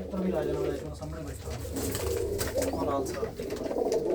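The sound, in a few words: pigeons cooing in a pigeon collection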